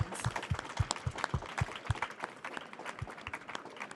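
An audience at a renewable-energy startup pitch session claps and stomps to welcome a team back on stage, with loose, scattered claps over low thumping beats from stamping feet, moderately quiet and uneven.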